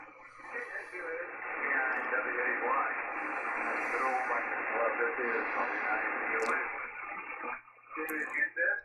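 Tinny, narrow-sounding speech plays through the speaker of an Icom 7610 radio receiver, steady and continuous, then breaks into a few choppy bursts at the end.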